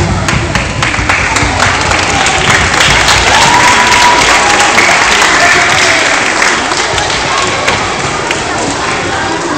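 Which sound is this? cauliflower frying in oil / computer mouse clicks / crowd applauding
crowd applauding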